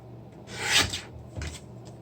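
Paper for a stamped word banner being trimmed on a paper trimmer, giving two short rasping slides, the first longer and louder, in a quiet room.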